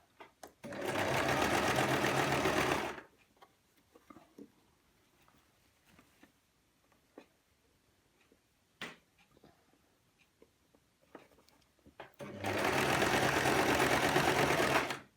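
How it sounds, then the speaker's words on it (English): Sewing machine stitching an A-line skirt, running in two steady bursts of about two seconds each at the start and end, with quiet handling clicks and fabric rustle between them and no talk. "Sew along."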